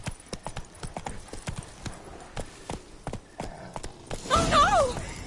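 Horse galloping in The Witcher 3, a steady rhythm of hoof clip-clops close by, ending with a brief whinny-like cry and a louder burst.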